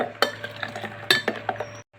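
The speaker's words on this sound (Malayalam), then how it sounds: "ഇനി നന്നായിട്ടൊന്ന് ഇളക്കി യോജിപ്പിച്ചാൽ മതി." A spoon stirs spiced buttermilk (sambharam) with salt for an Onam sadya, giving a quick series of close clinks and scrapes against the vessel before stopping abruptly.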